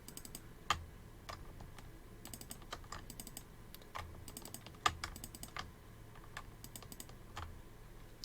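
Control key presses and double left mouse clicks at a computer, quiet crisp clicks and keystrokes coming in irregular bursts through a faint background hum.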